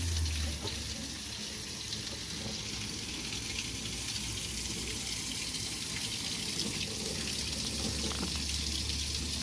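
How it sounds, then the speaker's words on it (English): Steady rushing water from a running faucet with a low rumbling hum underneath from a firing Rinnai tankless water heater, continuous and fairly close, no talking. "So turn it on. You can hear this thing fire up, and it should ignite."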